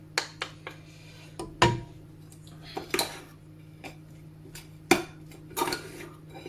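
Metal cutlery clatters and clinks against dishes in a kitchen drawer while someone rummages for a spoon: a string of sharp, irregular rattles and knocks, close by, with brief quiet gaps between.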